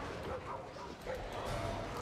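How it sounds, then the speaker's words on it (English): In the video game Warhammer 40k: Darktide, several dogs bark and yip in repeated bursts at moderate distance, mixed with game noise and voices talking over them. "a lot of dogs."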